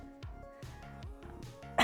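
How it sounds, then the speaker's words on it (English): A single sharp cough bursts out at the very end of a short, quiet stretch, close to the mic and loud against the faint, clipped room sounds before it. "I'm so sorry for coughing."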